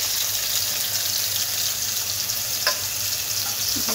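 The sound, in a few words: frying potato and eggplant with spice paste in a pan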